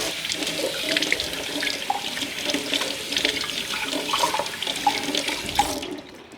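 Tap water runs steadily into a sink in a home kitchen, a continuous splashing rush that stays even throughout before cutting off abruptly at the end.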